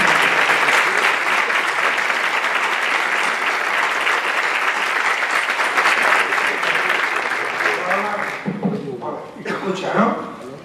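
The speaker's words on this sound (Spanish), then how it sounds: "os pido un aplauso para la mesa y sobre todo para la mesa" Audience at a book presentation applauds the panel in a long, steady burst of dense clapping that fills the room, then thins into scattered claps with voices starting to speak near the end.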